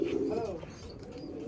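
A Madrasi or Andhra kabootar pigeon coos in a loft, a low, throaty, warbling rumble sounding close and continuous through the moment.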